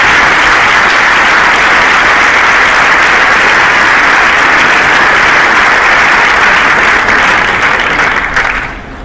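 Big audience at a college faculty board general meeting gives a sustained, loud round of applause for executive members, steady throughout and tapering off at the very end.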